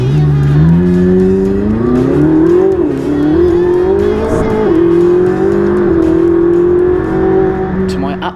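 A McLaren 675LT races hard around a track, heard from the passenger seat, its engine droning loudly and rising and falling in pitch through gear changes with brief tire noise.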